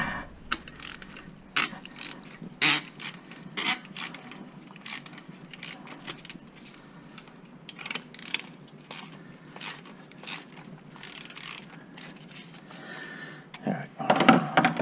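A wrench ratchets as it tightens a part during a tune-up on a 2005–2011 Hyundai Accent. Steady runs of close, crisp clicks continue for most of the stretch, with a louder metallic clatter near the end.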